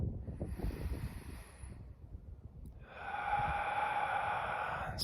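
A slow, deep breath taken during a guided compassion meditation: a soft, airy inhale, a quiet pause, then a long hissing exhale, close to the microphone with no talking.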